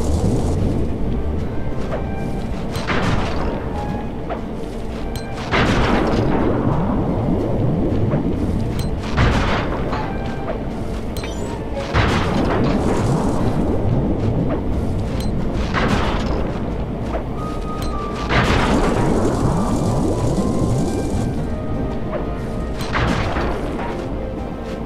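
Bomb blasts in the Sly 3 video game boom out loud and close, one roughly every three seconds, each deep burst rolling off into rumbling debris over a constant game backdrop.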